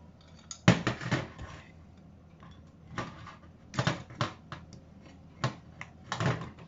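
Glass preserving jars knock and clink together in several sharp, irregular bursts, close and fairly quiet, with short pauses between the clatters and no talking.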